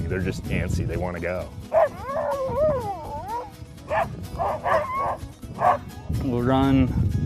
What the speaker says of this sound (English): You can hear them in the background. They're howling.